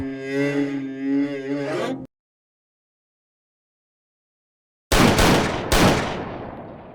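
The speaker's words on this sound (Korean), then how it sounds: "입에서 울려 퍼지는 세 발의 총성" A wavering tonal cry fades into silence, then three loud gunshots ring out in quick succession, each leaving a short echoing tail.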